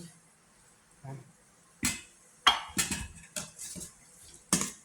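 Nam tok moo being stirred in a pot with a utensil, a few sharp scraping clinks and knocks against the metal at irregular intervals, close and fairly quiet between strokes.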